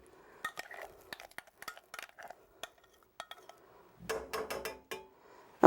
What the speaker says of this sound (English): I'm just going to go ahead and put that into the mixing bowl